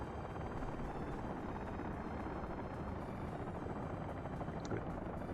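Helicopters in the building game Workers and Resources make a steady, dense rotor drone that holds at an even level for several seconds, with no talk over it.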